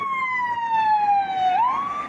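An EMS emergency vehicle passes with a loud, close siren that wails in a long descending tone and then sweeps back up as it goes by on a residential street.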